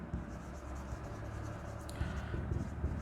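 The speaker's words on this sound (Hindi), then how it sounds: "तो हम यहाँ पे लिखते हैं न्यू इक्वेशन" Soft, close scratching of a pen writing out an accounting equation, a faint steady scraping with a few short strokes near the end and no talk.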